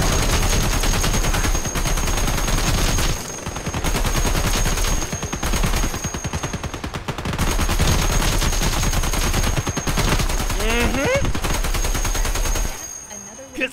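An NSV .50 caliber heavy machine gun, added as a weapon mod to a video game, fires in long, loud, nearly unbroken bursts of rapid heavy shots, pausing only briefly a few times.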